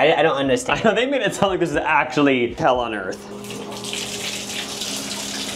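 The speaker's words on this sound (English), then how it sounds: "Just regular running water." Water runs from a hotel bathtub spigot in a steady gush, loud and close, heard under a conversation at first and then alone.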